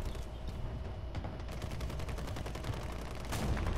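Tank gunfire in the War Thunder video game, a rapid run of sharp cracks and bursts that stays busy throughout, with a louder blast near the end, and no talk over it.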